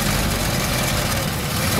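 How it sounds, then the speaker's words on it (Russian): A UAZ car engine, just restarted after being submerged in a river, idles steadily with a low, rough rumble, close and constant throughout the short stretch. "Ну, вы представляете, как он работает, этот мотор?"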